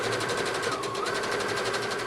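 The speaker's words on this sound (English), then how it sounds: "I'm going to do a zigzag stitch to finish that edge" A sewing machine runs continuously, stitching a zigzag along the edge of an A-line dress, with a steady fast mechanical whir and rapid needle ticking at close range and no voices.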